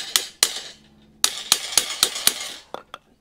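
A threaded fitting is tapped into place on the pipe of a new outdoor tap: about nine sharp, hard knocks, close by, in irregular pairs and bursts, each with a brief bright metallic ring and quiet gaps between.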